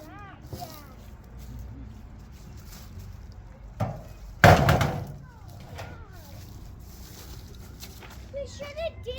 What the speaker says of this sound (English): It just went, the glass went everywhere.